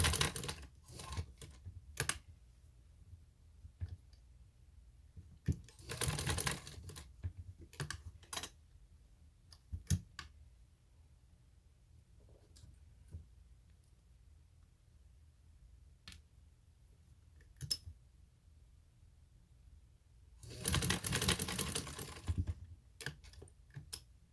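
A sewing machine stitching a neckline on a summer garment, running in two short, loud bursts of rapid needle clatter, with scattered handling clicks and taps in the quiet stretches between them.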